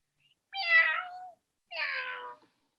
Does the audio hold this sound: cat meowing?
yes